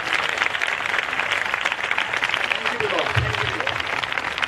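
A church congregation claps hands together during a Hindi-Punjabi sermon, a dense, continuous wash of applause filling the space, with a voice briefly audible underneath.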